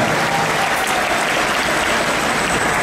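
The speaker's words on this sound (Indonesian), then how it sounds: "Tepuk tangan untuk seluruh jajaran Amanat Indonesia." Audience at an Indonesian political event applauding party officials, a thick, continuous roar of clapping at steady volume from start to finish.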